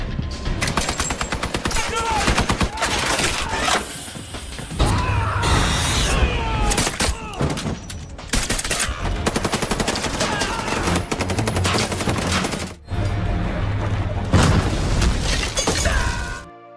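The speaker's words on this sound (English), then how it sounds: "And a very exciting shootout ensued." Dense rapid gunfire from a film shootout, with machine-gun bursts, single shots and shattering glass running almost nonstop, loud and close, with a couple of brief gaps.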